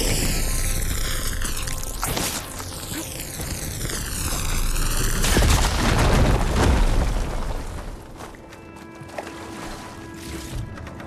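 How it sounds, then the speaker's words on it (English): A firegleam deposit blows up in the video game Horizon Forbidden West: a heavy, rumbling boom erupts midway, standing out against sweeping in-game music and ambience, then fades into quieter background tones. "Should be able to blow up that fire gleam."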